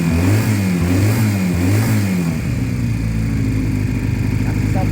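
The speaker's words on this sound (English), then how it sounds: "It's a healthy sounding bike." A Sinnis Cruise Star 125 motorcycle engine revs up and down in repeated rising and falling sweeps, loud and close. It then settles into a steady, busy idle.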